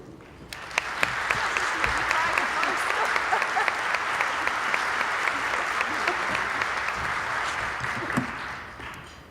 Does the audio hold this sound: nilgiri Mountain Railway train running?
no